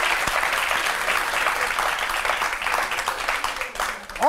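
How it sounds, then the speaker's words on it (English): Studio audience on a Nigerian talk show about tenancy rent regulation bursts into steady, dense applause that fills the room for several seconds, loud and sustained without a break. "Please put your hands together once again."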